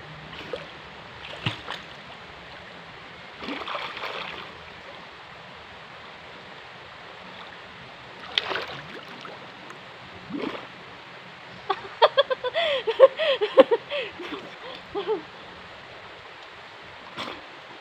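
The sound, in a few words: flowing river stream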